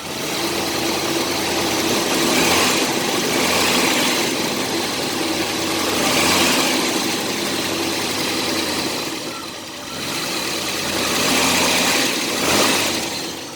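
A 1985 Chevy S10 with a 2.8 V6 engine running steadily under the hood with a faulty fan clutch that fails to engage, a loud continuous idling drone with slight slow swells in level throughout.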